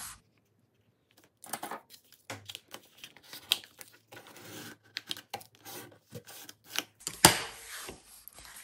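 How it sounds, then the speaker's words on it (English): A paper envelope being folded in half for a junk journal, with crisp rustles and creases in short bursts after a moment of silence, ending with a sharper press. "So I'm going to take my first envelope and simply fold that in half."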